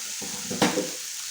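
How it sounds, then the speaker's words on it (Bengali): Chopped tomato drops into a pan of cooked spice masala, giving a short burst of sizzling and a scrape of stirring over a quiet background hiss. "এবার আমি এই যে টমেটোটা রেখেছিলাম, টমেটো কুচিটা আমি এখানে দিয়ে দেবো।"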